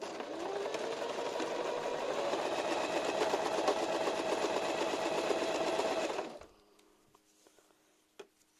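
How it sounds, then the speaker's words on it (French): Sewing machine restarting with a backstitch, running steadily and fairly loud for about six seconds before stopping abruptly, followed by near silence and a single faint click. "Je redémarre avec un point d'arrêt."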